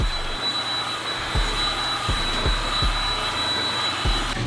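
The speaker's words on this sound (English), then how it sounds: "So I'm gonna put my heat gun, high setting, and just start passing it back and forth" A heat gun on its high setting blows steadily while warming a Subaru WRX fender, a constant airy roar with a faint high whine, close by, punctuated by several soft low thumps and no talking.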